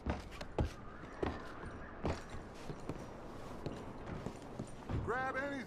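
Irregular horse hoof clops and footfalls thud through a busy, noisy scene in the video game Red Dead Redemption 2, with brief cries and a short warbling tone near the end.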